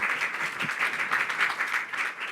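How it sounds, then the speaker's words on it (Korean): Audience applause at a startup demo day pitch event, a fairly soft, even patter of clapping from a modest crowd with a gently pulsing texture. "하준우 대표님께 박수 부탁드립니다."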